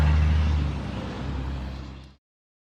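Road traffic rumbles steadily at the Bridge of the Gods, a loud low engine drone with the hum of passing cars and trucks that fades over about two seconds before cutting off.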